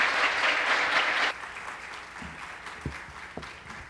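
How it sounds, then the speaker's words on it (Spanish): Conference audience applauding for a speaker, a dense wash of clapping that is strong for over a second, then drops to scattered, fading claps with a few distinct single hits. "Once again, a round of applause for Dr. Sanders"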